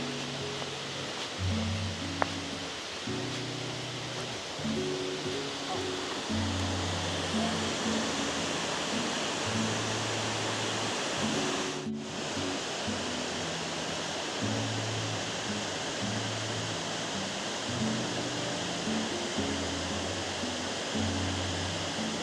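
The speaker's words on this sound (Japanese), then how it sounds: "ルシファーフォールズというルシファー滝というところにやっと着きました" Lucifer Falls near Ithaca, New York, a waterfall in a gorge, roars as a steady, dense wash of falling water, heard close and continuous, with faint music underneath.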